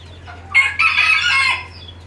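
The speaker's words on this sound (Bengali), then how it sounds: "সাদা কোচিনের বাচ্চা আছে দেখেন সাদা কোচিনের বাচ্চা" White Cochin chickens give a single loud, close call about a second long over a low steady hum, with no talk.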